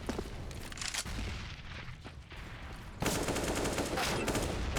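Dense bursts of rapid gunfire from Counter-Strike on the Mirage map, loud and continuous, briefly easing before an intense sustained volley.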